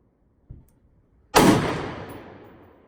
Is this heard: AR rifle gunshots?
yes